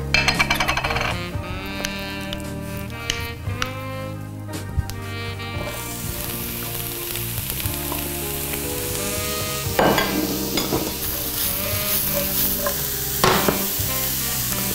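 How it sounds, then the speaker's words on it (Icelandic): Chopped mushrooms frying in coconut oil in a home kitchen pan, a steady crackling sizzle with occasional clinks and stirring scrapes of a utensil against the pan. "Ég með saksaða sveppi sem ég ætla að steikja með hakkinu og núna ætla ég að steikja upp úr kókosolíu."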